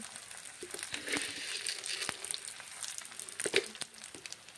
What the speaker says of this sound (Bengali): মুসুরির ডাল দিচ্ছি গরম তেলের সঙ্গে ভেজে নিচ্ছি মুসুরির ডাল